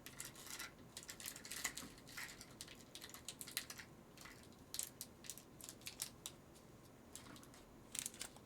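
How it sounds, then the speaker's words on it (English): Rapid irregular clacking of a loud typewriter being typed on by a crafter, with sharp key strikes in bursts and short pauses, close and clear with no talking. "Typewriters aren't quiet."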